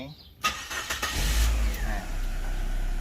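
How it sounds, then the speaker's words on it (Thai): A Chevrolet Optra engine is cranked and catches after a no-start repair, a short starter whir followed by the engine firing and settling into a steady, loud idle, close by. "เดี๋ยวเรามาลองสตาร์ทกันว่าตอนนี้ถ้าไม่มีแหวนเนี่ย มันจะติดจริงไหม"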